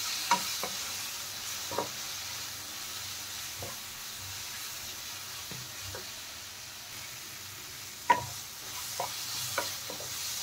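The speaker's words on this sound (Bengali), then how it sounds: "এখন সব মশলা একসাথে মিশিয়ে আমি ভালো করে কষিয়ে নেব" Sugar and masala spices for paneer bhurji being stirred and fried together in a pan, a low steady sizzle with intermittent scraping taps of the spoon against the pan, quiet and close.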